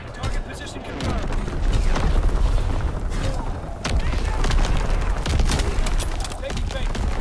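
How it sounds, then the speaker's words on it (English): Division artillery pounds away in Call of Duty WWII multiplayer, dense overlapping gunfire and booms in a continuous loud barrage with voices calling out over it. "Firing division artillery"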